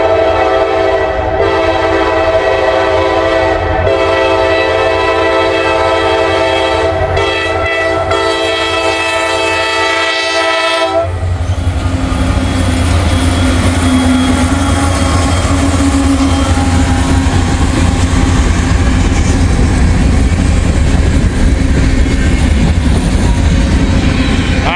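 A freight train in Kentucky passes close by: a loud sustained horn blast with layered tones for the first eleven seconds, then a rumbling roar of rolling cars and wheels that continues strongly to the end.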